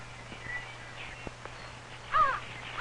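A crow caws a few times outdoors, with a louder, closer call near the end over a faint low steady hum.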